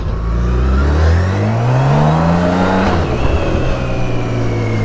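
A BMW K1600 GTL motorcycle engine runs loud and close at the start of a ride, its smooth hum rising steadily as it revs up, then settling into an even whir, with no speech.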